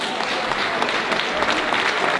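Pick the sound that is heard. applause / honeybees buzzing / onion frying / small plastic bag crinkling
applause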